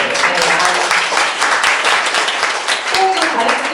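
A book-concert audience claps after a staged reading of a novel, with loud, dense applause that holds steady from start to finish.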